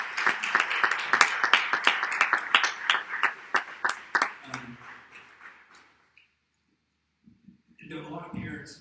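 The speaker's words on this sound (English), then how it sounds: "Give them a round of applause." Audience applause at a high school sports season banquet: a burst of dense clapping that thins out and fades over several seconds, followed by a brief quiet before a voice starts speaking.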